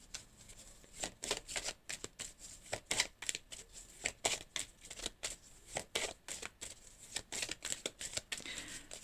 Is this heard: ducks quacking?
no